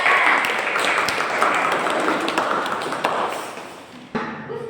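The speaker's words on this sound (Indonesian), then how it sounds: "Beri tepuk tangan buat kakak Afika." Brief applause from students in a classroom during a science teaching session, a moderate wash of clapping that fades out, followed by a knock and a voice starting to speak.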